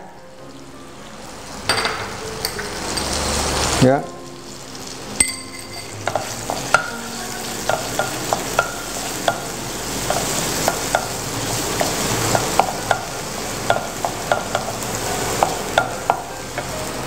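Garlic, a teaspoon of it, sizzles steadily in a hot pan while being stirred, with repeated sharp scrapes and taps of a utensil against the pan under the continuous frying hiss; a brief word is spoken.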